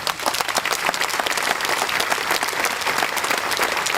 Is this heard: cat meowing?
no